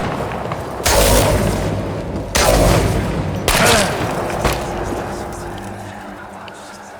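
Video game gunfire in Chernobylite: three loud, sharp bursts of shots about a second apart, each ringing out and fading, followed by a quieter thud, with a voice speaking between them.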